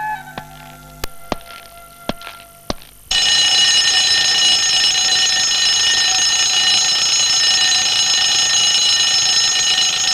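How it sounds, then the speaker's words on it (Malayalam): An alarm clock going off: a few sharp clicks and taps, then a loud continuous high electronic ringing that sounds steadily for the last seven seconds. "ഇതെന്തിനാ ഇപ്പൊ അലാറം അടിക്കുന്നു?"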